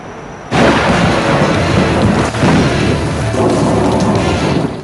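Heavy monsoon downpour with thunder and strong winds in Pakistan, a loud dense roar of rain that starts abruptly and holds steady, with a deep thunder rumble through the middle.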